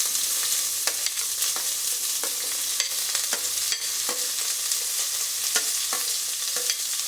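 Onions and green chillies fry in a pan with cashews for paneer pulao, a continuous bright sizzle broken by frequent sharp spatters and crackles, close and steady with no talk.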